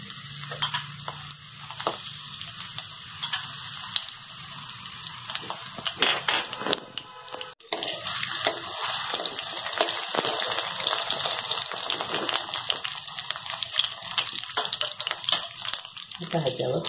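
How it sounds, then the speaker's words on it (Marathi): Chopped green chillies sizzle and crackle steadily in hot oil in a kadhai, a dense, close frying hiss lasting throughout, with brief stirring and a short dip in the sizzle midway. "तेल गरम झालेलं आहे तर ह्यात चिरलेली हिरवी मिरची टाकते."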